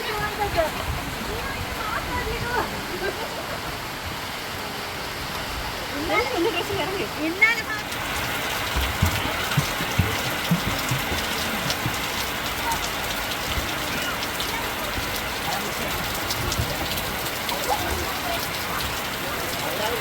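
Steady rain in Labuan, Malaysia pours down throughout, a dense continuous hiss of drops on surfaces, with voices talking faintly underneath.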